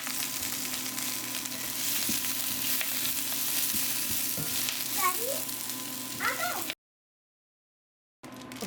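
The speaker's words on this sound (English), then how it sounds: "If you just want to cook this down," Bok choy cooks down and wilts in a hot pan, giving a steady close sizzle and frying hiss with occasional stirring clatter. A voice briefly speaks near the end, then the sound drops out into silence before a short return.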